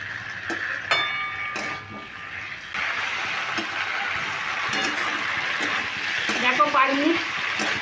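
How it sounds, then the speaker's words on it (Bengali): Potatoes and paneer sautéing in a pan, a continuous moderate sizzle with occasional stirring clatter, heard beneath someone talking. "এইভাবে আমি পাঁচ মিনিট কষিয়ে কষিয়ে রান্না করে নেবো"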